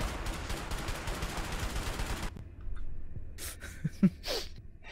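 Gunfire in the video game A Way Out: a dense, continuous rattle of shots for about two seconds, then a quieter stretch with a few scattered sharp cracks.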